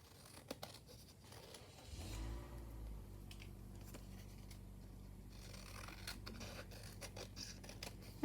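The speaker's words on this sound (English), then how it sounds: "I knew I could just trim around the edges." Scissors snip around the edges of paper for a layered envelope junk journal, a run of quick close crisp cuts with light paper rustle, then a low steady hum with scattered soft snips and crinkles.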